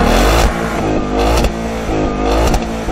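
A 2015 Ford Mustang engine revs hard and loud up close, its pitch climbing and dropping in several repeated surges with brief gaps between pulls.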